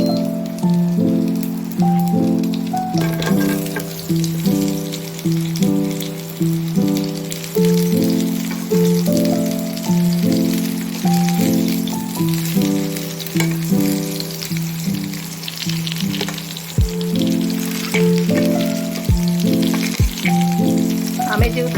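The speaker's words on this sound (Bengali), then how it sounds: "এবার দিয়ে আমি আমটা ভাজবো" Mango pieces fry in mustard oil with five-spice seeds in a wok, a loud crackling sizzle running throughout, with rhythmic tonal clatter from stirring repeating in the background and occasional sharp clicks.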